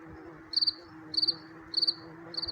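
A male cricket sings in four evenly spaced bursts, each a quick run of three or four shrill pulses, close and clear over a quiet background hum.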